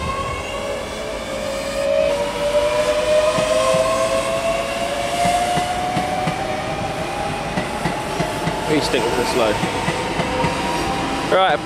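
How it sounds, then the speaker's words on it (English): An eight-coach Class 365 electric train pulls away from a platform at Stevenage, its rising motor whine and clattering wheels loud and steady close by, while people talk quietly in the background. "365-512 leads away, this 8 coach train."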